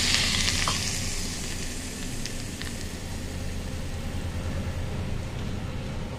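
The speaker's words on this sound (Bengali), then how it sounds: "তেলটা বেশ গরম হয়ে গেছে, এখন আমি এই তেলটাকে এই যে তৈরি করেছিলাম এটার মধ্যে আমি ঢেলে দেব" Hot oil sizzles onto a spinach salad mixture with garlic, a loud, even frying hiss with a few faint clinks, no talking.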